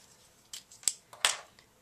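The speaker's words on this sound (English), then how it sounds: "And then I'm just going to take my scissors" A few sharp snips of scissors trimming paper card, three or four quick crisp cuts close up in a quiet room.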